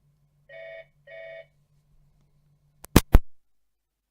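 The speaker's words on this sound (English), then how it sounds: "we'll get rid of the phone call" A telephone rings during a Virtual Pool 4 eight-ball match, two short electronic ring bursts over a faint hum, followed by sharp clacks of pool balls.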